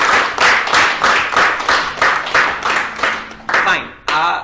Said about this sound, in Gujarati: આપણે જોરદાર તાળીઓ વાળીએ